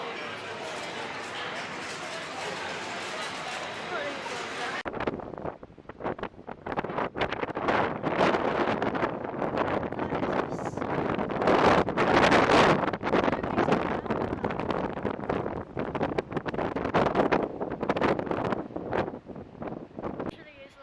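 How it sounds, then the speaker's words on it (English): Strong wind on a stormy day by the beach in Bournemouth buffets the microphone in loud, gusty roars, with a rushing outdoor ambience before the gusts start and faint voices beneath. "super windy"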